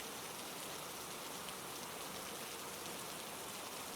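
Rain falls steadily in a dense, even hiss with soft patter, constant and fairly faint throughout, with no voices.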